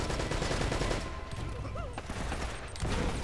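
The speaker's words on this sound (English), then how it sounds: "that machine gun's ripping me apart" Dense, continuous machine gun fire in the action game Uncharted: Drake's Fortune, a loud crackling fusillade running nearly throughout with a brief dip midway and faint game sounds mixed in.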